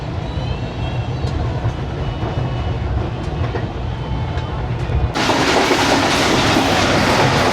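The Karakoram Express passenger train runs on the Lahore to Bahawalpur ML-1 line in Pakistan, with a continuous heavy rumble and wheel clatter on the rails that grows louder and brighter partway through.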